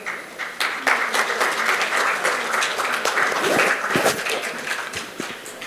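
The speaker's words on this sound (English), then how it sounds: "Please give him a round of applause." Sustained applause from a conference audience fills the hall, a dense, steady patter of many hands clapping at close to moderate distance with no voices over it.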